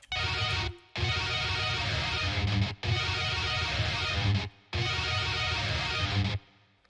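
A dense, distorted tech death metal guitar riff chugs along in three loud bursts with brief silent gaps between them.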